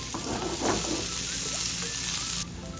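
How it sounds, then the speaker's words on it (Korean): Chopped green onion (daepa) sizzling in oil that was already infused with garlic over low heat, making scallion oil for a pork belly dish: a steady, close, crackling fry with no talking. "어느 정도 골든 브라운 색이 나왔으면 대파를 넣고 파기름도 내줍니다"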